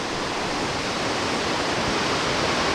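A waterfall near Baie-Comeau, Quebec, beside a highway bridge, rushing in a loud, constant broadband roar from nearby, unbroken and with no voices.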